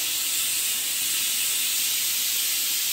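Steam hisses steadily from a pressure cooker whistle while potatoes are cooked for batata kapa in a home kitchen, a continuous broad hiss holding at an even level for the whole stretch with no talk over it.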